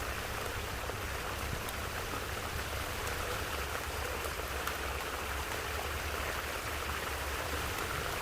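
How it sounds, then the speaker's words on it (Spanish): A swollen river rushing after flooding its banks, a steady, dense roar of churning water that holds even and unbroken throughout, with no voices over it. "el ruido del río era más fuerte y se oía más cerca"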